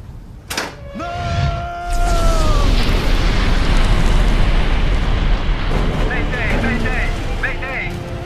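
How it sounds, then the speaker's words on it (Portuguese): An explosion aboard a boat, the Rosemary, a sudden broadband boom that swells into a loud, sustained roar lasting several seconds, with shouting voices over it at the start. "Ocorreu uma explosão a bordo."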